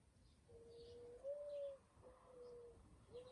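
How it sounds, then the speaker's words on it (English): A pigeon coos softly in the distance outside, a few low hooting notes over faint outdoor background noise. "the pigeons are the ones that are out, and so right now you heard a pigeon"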